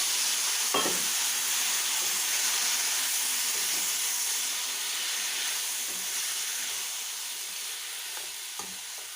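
Onion, green chilli, curry leaves and jackfruit seeds sauté in coconut oil in a hot pan, giving a steady close sizzle with faint stirring clicks throughout, slowly easing in volume toward the end.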